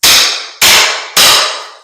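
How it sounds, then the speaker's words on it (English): Three loud, evenly spaced hammer blows strike a pry bar wedged under the edge of a broken floor tile. Each sharp impact rings out briefly before the next. "Then I just hammer down on it"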